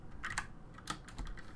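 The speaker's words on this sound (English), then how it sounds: "I have a really nice mechanical keyboard. It's got the cherry red switches on it" Someone types on a mechanical keyboard with Cherry MX Red switches, a quick irregular patter of close, light key clicks.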